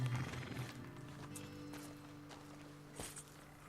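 Horses in the Red Dead Redemption 2 video game give a faint neigh and soft hoof movement against a steady low ambient hum, quiet and somewhat distant.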